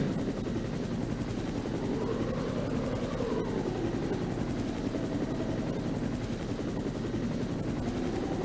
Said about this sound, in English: Then what is the helicopter doing?